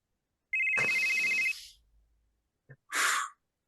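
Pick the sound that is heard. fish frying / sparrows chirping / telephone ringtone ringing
telephone ringtone ringing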